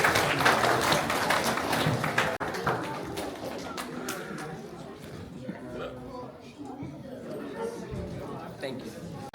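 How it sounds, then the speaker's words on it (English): Audience applause at the close of a youth innovation camp presentation, dense clapping that is loud at first and then thins and fades, with chatter and voices mixed in throughout. "Round of applause."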